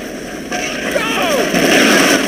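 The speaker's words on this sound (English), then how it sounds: "Firing mission confirmed. Artillery strike incoming." An artillery strike in the Men of War video game, with incoming shells whistling down and a rolling roar building loud and close, alongside battlefield noise.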